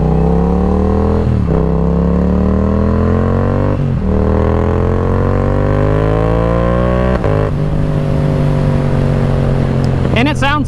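A Yamaha R7 with its CP2 270-degree-crank parallel twin revs and pulls hard, loud and close, the pitch climbing through several gear changes.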